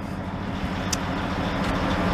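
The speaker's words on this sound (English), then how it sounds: "A couple trucks riding by" Traffic on a nearby road, a couple of trucks rolling past, gives a steady low broadband roar with no distinct single pass-by, heard alone without talk.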